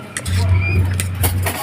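A spoon stirs through a bowl while chicken fillet is being prepared, giving a couple of quick clinks and scrapes over a steady low hum nearby.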